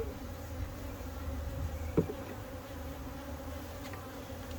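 Honey bees hum in a steady, close drone while a hive is inspected for swarm cells, with one brief louder buzz near the middle.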